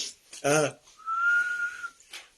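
A person whistles a single clear, sustained note, mimicking a shepherd's call to his sheep, with a brief breathy sound before it and a short one after.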